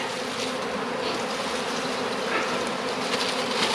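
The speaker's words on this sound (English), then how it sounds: "A lot of bees going crazy." A swarm of honey bees bursts from a swarm trap, making a dense, steady, close-up buzzing that fills the whole stretch without pause.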